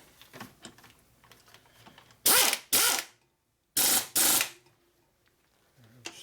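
Two pairs of loud, harsh pneumatic air-ratchet bursts tightening bolts on a 2011 Harley-Davidson Road Glide, each about half a second, separated by silence, with faint background clatter before them.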